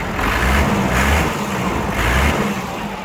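The 22 hp diesel engine of a Kubota GT5 mini tractor runs steadily at idle, a constant close rumble with a faint periodic pulse and no voices.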